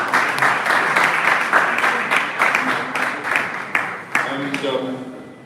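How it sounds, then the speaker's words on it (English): An audience at an association convention's evening election session applauds a newly named vice president, with steady clapping throughout and a voice speaking over it. "A round of applause."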